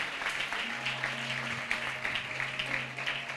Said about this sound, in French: Non, applaudis bien